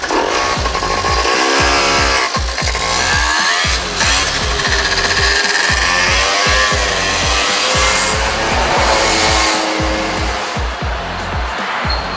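A 50cc Jonway scooter engine runs loud and close during a test run after a no-start, stalling, rough-running repair, a buzzing two-stroke rattle that revs up and down continuously throughout.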